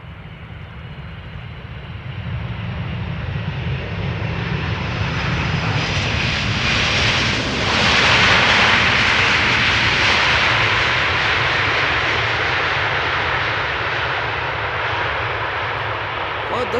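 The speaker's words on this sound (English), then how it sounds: "Latam Cargo flight 1505 up next, arriving from Miami, Florida. 767-300 ER." A Latam Cargo Boeing 767-300ER arriving at Amsterdam Schiphol roars in on approach, its jet engine noise building steadily to a loud peak midway and then fading slightly as it passes, with a voice talking faintly beneath.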